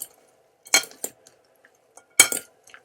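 A spoon clinks and scrapes against a Corelle Livingware 2-quart Winter Frost White glass serving bowl while mixing, a few sharp, close taps and scrapes separated by short pauses.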